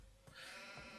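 A single short sheep bleat from Age of Empires II sounds briefly and faintly, wavering and nasal.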